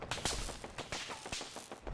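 Explosive-ammo gunfire in Fallout 4, several sharp shots with bursting impacts in quick irregular succession, moderately loud.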